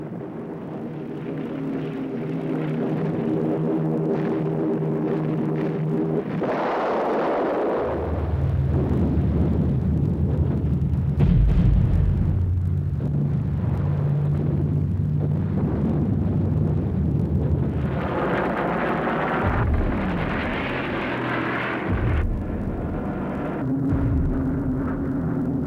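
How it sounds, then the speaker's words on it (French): Fighter aircraft of the US Ninth Air Force strafing German tanks at low level during the Battle of the Bulge, with a sustained engine roar and heavy rumbling explosions that swell and fade over a long, loud stretch. "Les pilotes de chasse de la 9e force aérienne américaine peuvent enfin décoller et mitrailler les chars allemands en rase-motte."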